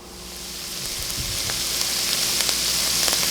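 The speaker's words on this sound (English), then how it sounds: "Brown the meat, crisp it up." Ground meat browns for chili in a hot pan, giving a steady broadband sizzle that slowly builds in loudness, with faint stirring scrapes and occasional pops and no voices.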